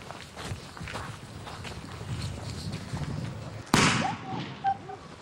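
A small explosive charge goes off inside a capsule in an explosives demonstration, a single sharp, modest bang that cuts in after a few seconds of quiet shuffling and rustle, followed by a brief clatter.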